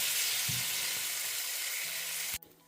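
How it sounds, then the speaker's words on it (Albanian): Pieces of chicken fillet fry in a pan with a steady, loud sizzle, broken by a few soft clinks and stirring knocks before the hiss cuts off abruptly near the end. "i fërgojmë edhe pjesët e mbetura të filetave të pulës"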